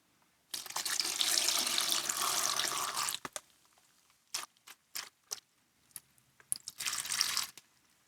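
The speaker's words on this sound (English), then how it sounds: "I'm going to pour that in until I get to that weight." Water pouring steadily from a bucket into clay slip in a pottery studio, a sustained splashing stream that stops, followed by scattered drips and short bursts of pouring.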